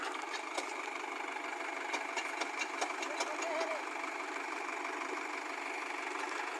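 A Mahindra 575 FX tractor engine runs steadily while stuck in deep mud during heavy rain. It makes a continuous, fairly loud mechanical drone with faint knocking ticks throughout, and no clear words are spoken.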